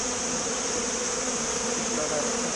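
Honey bees hum in a steady, dense drone close to an autumn hive, a continuous buzzing swarm sound with no pauses and no voices.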